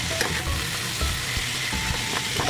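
Long beans and okra for pakbet sizzling in a pan, a loud constant crackle broken by a few stirring scrapes and knocks, close up with no voices.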